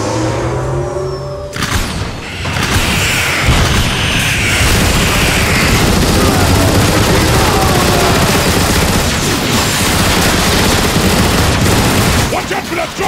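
Loud, rapid cannon fire from a Decepticon dropship in a Transformers movie battle: dense bursts of shots and heavy booms that pound almost without pause through the whole stretch.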